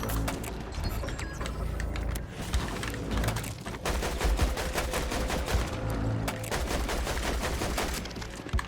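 Dense, loud, continuous automatic gunfire fills a Fortnite match, with rapid bursts overlapping throughout and no pauses.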